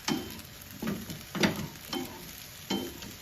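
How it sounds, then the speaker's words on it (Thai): Chili, garlic and shallots dry-roasting in a wok, with a steady close sizzle broken by five rhythmic scraping stirs of a spatula against the pan, no voices. "เราก็จะ คั่วต่อไปนะคะให้เขาแห้งสนิทเลยค่ะ"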